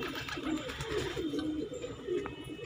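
Madrasi pigeons in Kardampuri, Delhi, cooing in low, repeated throaty rolls over a steady background murmur, fairly close.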